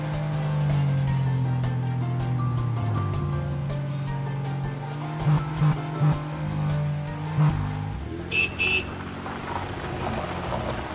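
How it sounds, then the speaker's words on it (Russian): Cartoon racing cars from the Cars films drive past with a steady humming engine drone, punctuated by short rhythmic bursts and a bright high blip near the end. "Машины, гонки."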